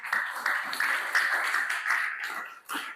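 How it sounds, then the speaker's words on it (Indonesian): Students in a classroom clapping their hands in a quick, uneven burst, fairly close and lively, with short breaks between clusters of claps. "Semangat, tepuk tangannya mana?"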